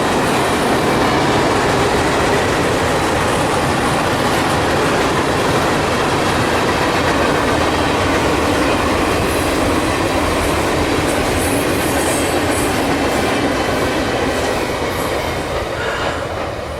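A circus train rolls along a stretch of double track, its wheels and railcars producing a steady, loud rumble with clickety-clack and occasional faint wheel squeal throughout, no voices.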